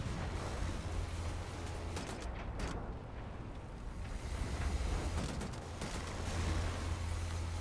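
A grenade blast in the war shooter Wolfenstein: The New Order, a heavy low rumble layered over constant battlefield din, with no talk.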